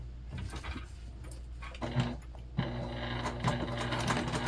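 Sewing machine stitching over a seam on a modified Lindsport Mini Backpack, a steady close mechanical whir with rhythmic needle ticking that grows louder and busier partway through.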